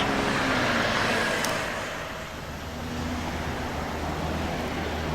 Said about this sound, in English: A lot of traffic coming along this way.